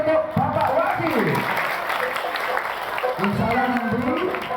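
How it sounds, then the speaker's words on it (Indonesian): Audience applause at a school Isra Mi'raj storytelling and magic show in Semarang, steady crowd clapping throughout with a presenter speaking over it. "Tepuk tangan untuk Bapak Wahid."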